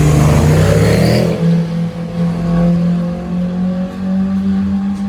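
A Mitsubishi Evo sports car passing on a Monaco street, its engine a loud, steady mid-pitched drone that swells near the start and then holds as the car goes by, with no talk over it.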